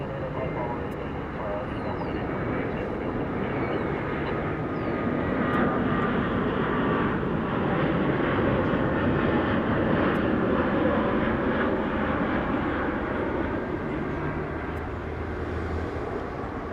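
Airliner jet engines roar steadily at DFW International Airport, a broad, loud, sustained rumble and whine filling the whole stretch with slight swells, voices speaking faintly underneath.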